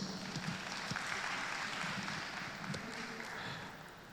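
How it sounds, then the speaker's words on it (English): Audience applause at the opening ceremony of the NBA SLP Conference 2023, a steady, fairly faint wash of clapping from a large hall that holds for about four seconds and fades slightly toward the end. "can we give him another round of applause?"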